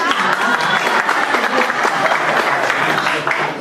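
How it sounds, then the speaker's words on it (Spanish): A room of people claps together in steady applause, a dense patter of hands that carries on evenly throughout. "un aplauso acá para el compañero"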